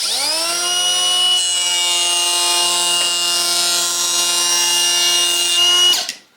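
A Makita XPK01Z 18V LXT cordless 3-1/4 inch planer runs across a wooden board with a loud, steady, high whine for about six seconds, then spins down quickly. No one speaks.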